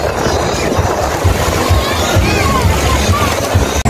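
Motorboats running at Playa Las Palmeras beach in Mara, Zulia, Venezuela, a steady low engine drone with surf and wind noise mixed in, close and continuous, with people talking over it.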